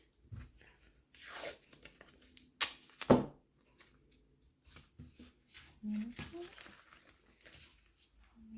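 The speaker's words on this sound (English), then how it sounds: "I'm just going to use this painter's tape" Painter's tape is pulled off the roll with tearing and crinkling bursts and pressed into place, a few separate rips and rustles, close by, with quiet handling noise between them.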